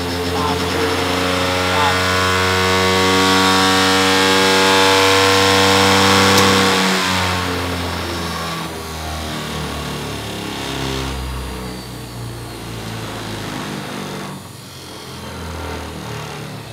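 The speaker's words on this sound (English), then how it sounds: "Oh, you can see that the motor is going faster, faster." Series-wound DC motor spinning with no load attached, its whine rising steadily in pitch as it speeds up, loud and continuous, with a voice talking over it.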